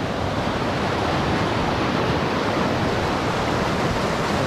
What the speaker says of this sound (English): You can see in here just how fast this water's moving.